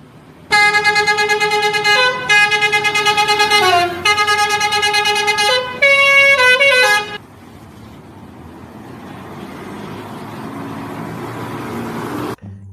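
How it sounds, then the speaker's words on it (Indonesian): A Sindoro Satria Mas coach bus in Indonesia blares a loud, melodic multi-tone horn in several rising and falling bursts, then its engine rumbles and builds as it rolls past nearby. "kali ini ada bus Sindoro Satria Mas teman-teman"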